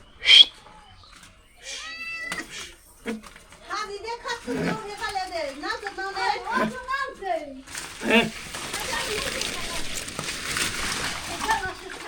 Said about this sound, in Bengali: বিড়াল পানি দেখে যে ভয় পায়